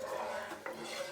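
Stirring vermicelli payasam after more milk is poured into the pot: a continuous scraping and clinking of a spoon against the metal, steady throughout with one brief sharper knock near the end.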